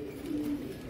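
ChandarKhani pigeons cooing in a steady low murmur, one coo swelling near the middle of the second, with no talk over it.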